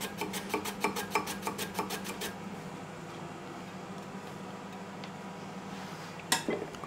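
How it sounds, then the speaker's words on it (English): A julienne slicer cuts vegetables in a home kitchen with a quick run of about ten rhythmic scraping strokes. Quiet follows, then a single sharp clatter near the end. "I'm just going to julienne this"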